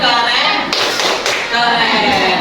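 A group claps in a quick, rhythmic pattern with sharp taps, close and loud, like a coordinated classroom clap.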